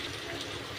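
Hot water poured into a cooking pot for an Odia paneer curry, a steady close rushing pour that runs unbroken and fairly loud for under a second, with no talk.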